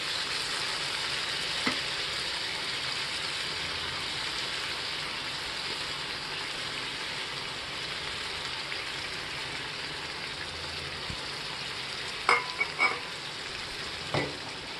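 Eggs go into a pan of bubbling egg curry masala gravy, giving a steady, close sizzle and frying hiss throughout with a few brief clinks and stirring knocks near the end.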